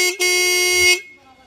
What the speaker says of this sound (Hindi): यहाँ पर हॉर्न लगा रखे हैं सेट,